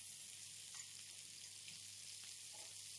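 Fish fillets fry in olive oil after being turned in the pan, giving a steady, soft sizzle throughout with faint crackles and no voices.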